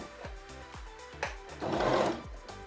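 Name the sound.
sewing machine stitching piping on a pouch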